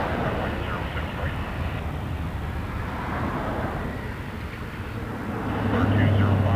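An airliner takes off from runway 05 at Toronto Pearson Airport, a steady broadband jet roar that swells louder toward the end, with radio chatter and voices over it.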